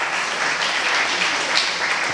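Steady applause from a crowd at a university welcome address, dense continuous clapping filling the whole stretch without a break.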